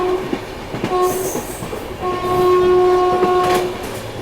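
The Maharashtra Sampark Kranti Express rolls on rails and its horn sounds in bright tonal blasts, once briefly and then in a longer sustained call, over rumbling wheel noise as it suddenly slows.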